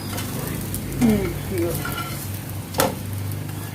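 Semiya vermicelli frying in a pan on low heat gives a soft, steady sizzle, with a few scraping stirs and spoon knocks against the pan.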